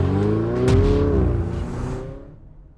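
A 2024 Dacia Duster car engine revs and pulls away, a rising, droning whir that swells briefly and then fades off over under three seconds, with no voices.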